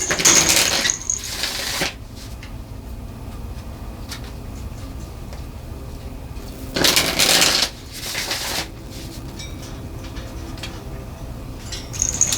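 Tarot deck shuffled by hand in two bursts of papery riffling, near and fairly loud, with quiet handling between.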